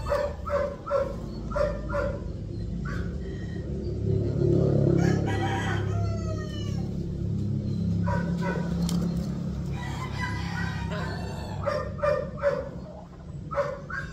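A rooster crows several times close by, with a dog barking in between and other fowl clucking faintly in an outdoor yard.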